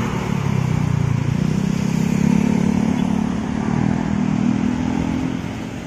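Bus with a Scania K410IB engine passes close by, its deep engine rumble loud and steady throughout, swelling slightly midway and fading a little at the end, with no talk.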